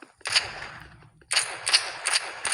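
Pistol gunfire in the video game Roblox Rivals: one sharp shot, a short pause, then a quick string of four snappy, loud cracks.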